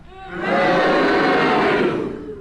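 Studio audience on a panel game booing together, a broad sustained crowd roar that swells in, holds for about two seconds, then eases off.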